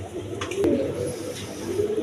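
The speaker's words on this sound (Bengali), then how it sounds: "দর্শকবিন্দু এখানে এক পেয়ার গড় কবুতর আছে দেখেন" A pair of pigeons coo softly and continuously in a loft, low throaty murmurs with a faint click or flutter, moderately close and with no speech.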